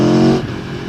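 A 2017 Aprilia Tuono Factory motorcycle engine roars loudly and briefly at high revs, then the tone drops as it shifts or eases off.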